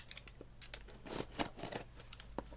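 A box cutter slices through packing tape on a keyboard box, a series of short rasping, tearing strokes with irregular rhythm, close and fairly quiet.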